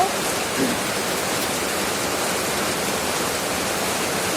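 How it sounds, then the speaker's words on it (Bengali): Heavy rain falls steadily in Dhanbari, Tangail district, Bangladesh, a constant dense hiss close by with no pauses. "অনেক বৃষ্টি হচ্ছে আমাদের দেশে।"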